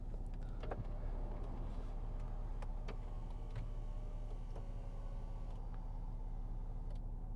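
Steady low electric motor whir of a 2013 Range Rover Sport 3.0 SD V6 HSE power memory seat moving into a stored position, continuous and quiet inside the cabin, with occasional faint ticks.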